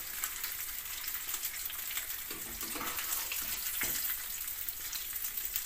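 Steady hissing and crackling of fish frying in hot oil, continuous and close, with no voices.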